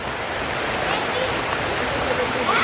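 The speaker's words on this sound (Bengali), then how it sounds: "বৃষ্টি আস্তে আস্তে কমে যাইতেছে" Steady rain falls in a continuous even patter on outdoor surfaces, a broad soft wash that stays constant without breaks.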